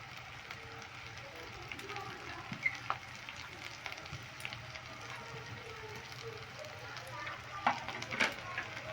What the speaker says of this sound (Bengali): এবার ধনে পাতা দিয়ে আমি ভালো করে নেড়ে নিচ্ছি